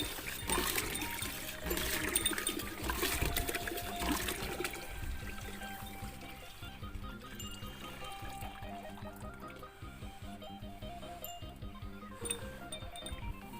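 Water pours steadily and loudly into a container set out for cattle on a small home farm, a continuous splashing fill that runs the whole time with a faint tonal hum underneath.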